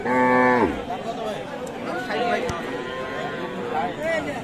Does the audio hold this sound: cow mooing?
yes